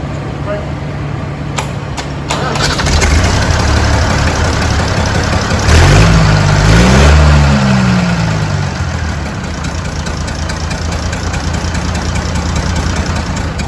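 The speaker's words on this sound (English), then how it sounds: "we've got the engine running now" A Roadless tractor engine running, a loud, close, low idling rumble with a brief rise in revs midway, while people talk over it.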